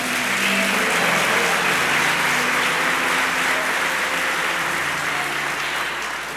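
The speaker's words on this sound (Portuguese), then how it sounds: "Isso, aplaude aí, meu irmão." Congregation applause during a Portuguese-language church sermon at an Assembly of God service, a continuous, loud wash of many hands clapping that holds steady for over six seconds, with a low hum underneath and no speech.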